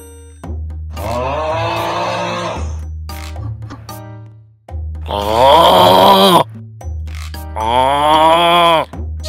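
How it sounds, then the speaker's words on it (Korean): Loud, exaggerated snoring from a sleeping mother character in a Roblox Adopt Me game, three long rasping breaths with short pauses between them, close and alone. "지금 엄마가 코를 골고 있자."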